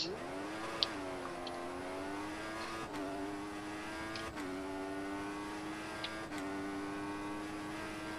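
Formula 1 car engine in the F1 2014 racing game at the Bahrain Grand Prix, a high-pitched whine rising through the gears with sharp drops at each upshift, steady and continuous with no talk.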